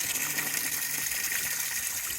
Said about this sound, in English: I'm replacing the pond water, putting new water in.